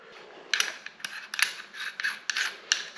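Airsoft MWS URG-I rifle parts being fitted back together as the outer barrel is reassembled and tightened: a close series of sharp metallic clicks, ratchet-like turns and scraping rubs in irregular bursts, with no voice.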